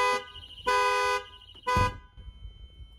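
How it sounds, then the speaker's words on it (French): A Thitronik alarm in a camper van sounds in three loud harsh horn blasts, two long and one shorter, with quieter rustling between them. "ça va déclencher du coup l'alarme."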